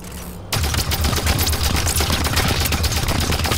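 Sustained rapid gunfire in Halo 5: Guardians, aimed at a Covenant gravitational core behind a shield; after a brief quiet start, loud dense automatic bursts run continuously to the end.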